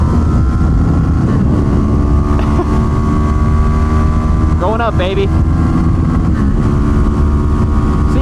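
Suzuki GSX 250R motorcycle engine held loud and steady at its rev limiter, a constant drone with wind buffeting over it and a short rising whine midway; a rider speaks briefly over the noise.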